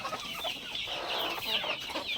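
Native village chickens perched up on a bamboo roost at night cluck softly in a continuous, overlapping murmur, close and fairly steady, with no voices.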